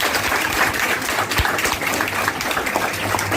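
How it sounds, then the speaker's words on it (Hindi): An audience at a free computer-training certificate ceremony gives the teacher a loud round of welcome applause, with steady, close clapping throughout. "एक जोरदार तालियों से सबसे पहले सर का स्वागत कीजिए"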